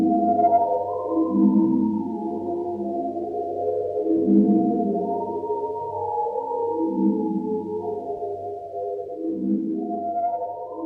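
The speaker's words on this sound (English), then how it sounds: "she created the soundtrack for a play called Amphitryon 38, which was the first ever all-electronic score for anything" Daphne Oram's all-electronic score for the 1957 play Amphitryon 38: layered, sustained electronic tones that waver and swell in slow waves over a low steady drone, with no voices.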